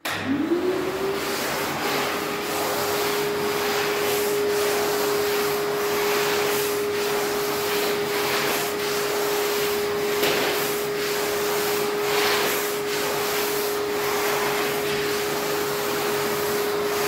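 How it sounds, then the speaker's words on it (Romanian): A vacuum cleaner used for tidying a workshop after building door frames: its motor spins up in the first second into a steady, loud whine that holds unbroken over a low broadband rush for the rest of the time. "am dat inclusiv cu aspiratorul"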